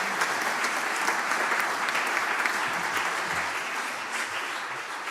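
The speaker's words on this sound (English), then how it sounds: "Let us give all of the panelists, again, a great round of applause and appreciation." A panel audience at a public banking and local renewables event gives a steady, even round of applause, moderately loud and sustained throughout.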